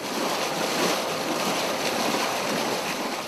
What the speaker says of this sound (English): Welcome aboard the UC Davis research vessel, John LeConte.